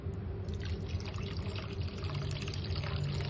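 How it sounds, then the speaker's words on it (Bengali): Water poured into a pan of chicken chap, a steady close trickle and splash running for a few seconds. "এবার এর মধ্যে একটু জল দিয়ে দেবো।"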